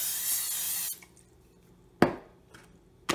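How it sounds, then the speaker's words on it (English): Olive oil cooking spray hisses in a short burst into the bottom of a pan, followed by a quiet pause and a couple of sharp knocks or clatters from the pan. "we're going to put some of this spray in the bottom of the pan"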